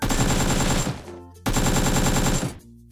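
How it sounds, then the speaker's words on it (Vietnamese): Rapid automatic AK-47 fire in Minecraft, two loud sustained bursts separated by a short pause, each ending abruptly with no talking. "anh có súng AK-47 siêu ngầu"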